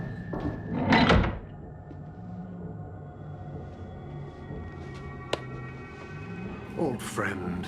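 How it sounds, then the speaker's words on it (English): A door thuds shut near the start, a short solid knock in an indoor sci-fi drama scene, followed by a quiet room hum with faint clicks. "Close the door."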